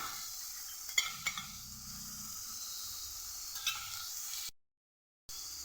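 Onion and tomato fry with spices in a pan, a faint steady sizzle with a few light clinks and stirring taps, cut briefly by a moment of silence near the end.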